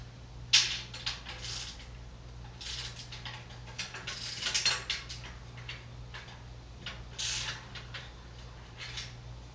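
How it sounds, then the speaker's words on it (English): Over-tightened bolts are loosened on a CURT 18153 hitch cargo carrier, giving soft, irregular ratcheting clicks in short clusters over a low, steady hum. "I might have over tightened these other bolts, so we'll loosen these a little bit"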